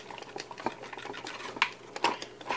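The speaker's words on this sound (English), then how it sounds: "So we're going to take these 4 screws out the back." Screws are unscrewed from the back housing of a 1986 Robeson Robo fan, giving faint scraping clicks and small metallic ticks in an irregular rhythm, close by in a quiet room.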